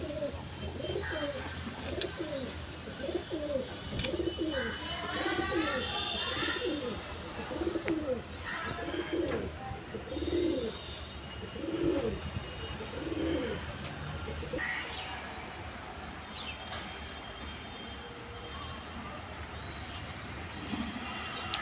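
Domestic pigeons coo close by in a repeated run of soft, throaty, rolling calls, with chirps from other birds and faint traffic in the background.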